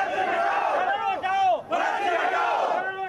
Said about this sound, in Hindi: गांधीनगर के बीजेपी दफ्तर पर उमड़ी पार्टी कार्यकर्ताओं की भीड़ और उनकी ये नारेबाजी